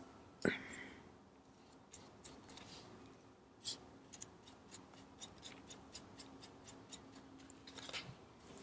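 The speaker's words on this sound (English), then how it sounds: "And I can always cut the excess." Scissors snip through excess paper in a series of quick, sharp, fairly close cuts, a regular crisp rhythm with faint background rustling and no talk.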